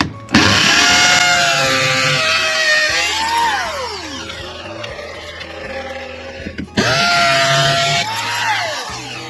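A power drill bores holes in a wall for a Sanus TV mount, its motor whining loudly up to speed, winding down, then spinning up again for a second hole, close and mostly alone.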